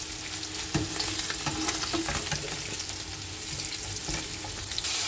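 Fish fries in hot oil with a dense, continuous sizzle and crackle, with occasional soft clicks and stirring noises mixed in. No voices are heard.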